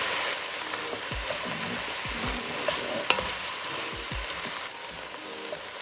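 A tablespoon of minced garlic sizzles in plenty of olive oil in a soup pot along with kale and leeks, a steady close hiss with a few soft stirring scrapes and clicks, no voices.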